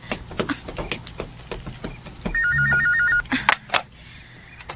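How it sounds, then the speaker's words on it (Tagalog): Telephone ringing in a radio drama, a trilling bell-like ring burst standing out amid clicks, beeps and busy sound effects, with no voices. "May bagting ang phone."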